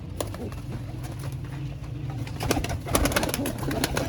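Pigeons, flying and breeder birds kept for sale, coo in low rolling murmurs close by, a steady throaty burble under faint background noise and scattered sharp taps.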